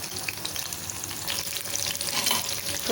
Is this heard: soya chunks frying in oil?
yes